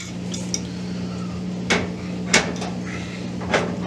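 A wrench works on a gas stove fitting during a stove relocation and conversion, producing a few close, sharp metallic clanks spaced about a second apart over a steady hum.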